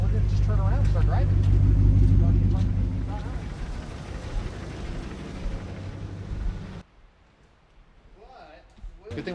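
A car driving along a snowy road in freezing rain, with a steady loud engine and tyre rumble that fades after several seconds, and voices talking faintly near the end.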